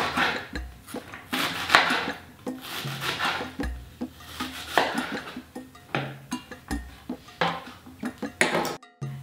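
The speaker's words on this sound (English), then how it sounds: "I'll just chop up a carrot into some small strips. Slice up some onion too." A knife cuts a carrot into small strips and slices onion on a board, giving a run of uneven rhythmic chops and scrapes close by, with no talking.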